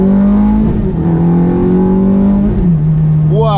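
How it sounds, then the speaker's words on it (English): A Ferrari F430 driven in sport mode revs hard from inside the cabin, its engine note holding a loud sustained drone that shifts pitch near the end as it climbs again. "I'm driving a Ferrari F430."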